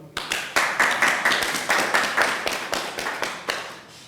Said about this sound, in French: Vous applaudissez, hein?